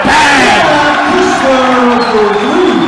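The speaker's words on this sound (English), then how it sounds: "listen to this crowd roar" A packed high school basketball gym crowd roars and yells during a timeout, a loud, dense wall of cheering voices that stays intense throughout.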